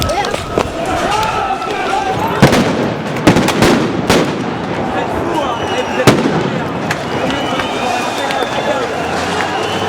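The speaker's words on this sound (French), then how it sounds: "Un tir tendu là, un tir tendu." Tear gas grenade launchers fire at a Gilets Jaunes protest on its first anniversary, sending several sharp, loud bangs through a steady roar of crowd noise, with shouting voices throughout.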